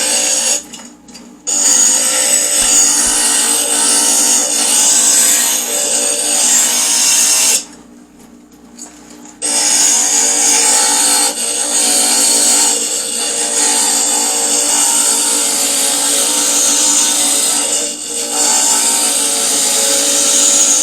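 An electric glass grinder runs against a stained glass piece with a steady high whine, cutting out briefly twice as the piece is lifted and then resuming, close and loud with no talk.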